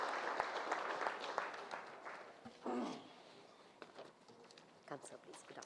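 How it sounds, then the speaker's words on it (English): A round of applause from the audience at an agricultural workshop, mixed clapping spread through the room that fades and thins toward the end, with a short voice partway through. "Can we have a round of applause for him,"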